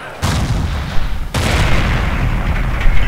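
A Panzer IV tank is destroyed in Forgotten Hope 2 at Pegasus Bridge, a sudden loud blast followed by a second heavy explosion and sustained rumbling battle noise.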